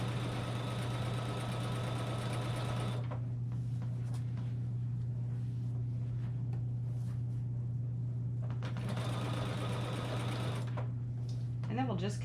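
A sewing machine runs steadily, stitching binding onto the back of a T-shirt quilt, a constant close mechanical whir with short pauses and restarts and occasional handling noises, with a voice talking at times.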